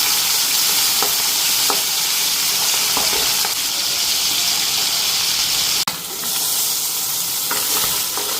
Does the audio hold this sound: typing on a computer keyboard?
no